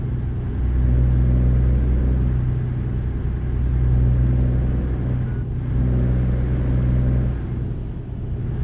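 A Kenworth LW 6x4 logging truck in a modded video game drives with a loud, steady low diesel rumble and a deep droning hum that swells slightly over the few seconds, with no talking.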